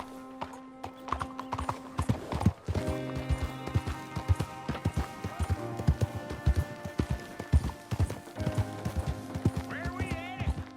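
Horse hooves clip-clopping at a quick, irregular gait on a ride in the Red Dead Redemption 2 video game, close and fairly loud, with a whinny near the end and game music underneath.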